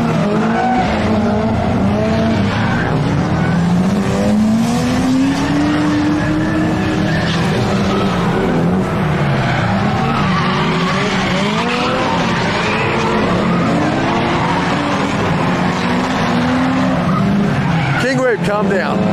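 A cut-down Nissan S15 drift car screeches through a long, loud slide at a drift track day, engine howling and revving under continuous tire squeal, with voices talking over it.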